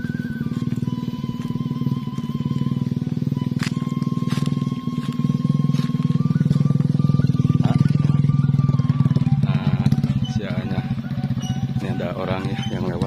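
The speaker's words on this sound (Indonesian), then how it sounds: "Di sana tuh ada motor ya." A motorcycle engine drones nearby in a remote village, a continuous low rumble that swells slightly as it passes, with a voice and other background noises on top.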